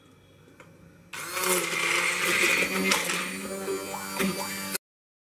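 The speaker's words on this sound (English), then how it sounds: "I'm using my immersion blender to blend this up." An immersion blender purees cooked tomatoes and onions, whirring loudly and steadily for a few seconds, then cuts off abruptly, with a voice faintly audible beneath the motor.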